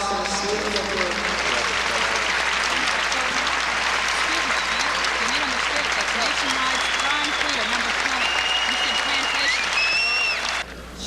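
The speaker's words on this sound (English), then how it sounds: "Let's have a round of applause for this beautiful group." Sustained, even applause from the audience at a German Shepherd Dog national specialty show, steady clapping for about ten seconds with crowd voices and murmuring underneath before it cuts off.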